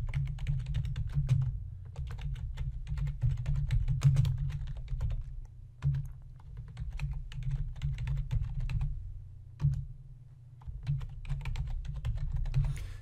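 Rapid, steady typing on a computer keyboard while entering a PowerPoint slide title, with dense clicking keystrokes running almost continuously over a low hum and a few brief pauses.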